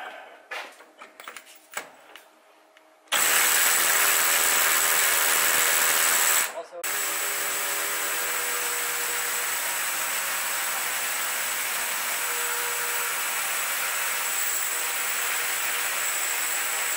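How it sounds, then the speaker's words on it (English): A core drill bores into a concrete block wall, starting with a few clicks and knocks, then a loud, steady high whine that briefly dips and resumes, grinding on continuously. "Welcome to the world of core drilling."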